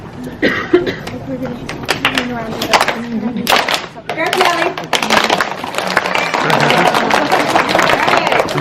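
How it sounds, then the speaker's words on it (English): A fundraiser crowd at Camp Phoenix does the firecracker clap: scattered sharp claps and voices at first, then swelling around the five-second mark into a dense, continuous crackle of many hands that holds to the end. "and then the firecracker clap"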